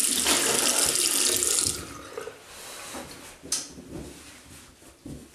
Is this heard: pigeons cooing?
no